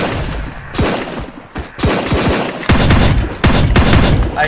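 Loud, close blasts from a long range shotgun in Tactical Operations Force, a series of sharp booming shots spaced irregularly, some in quick pairs, with little talk.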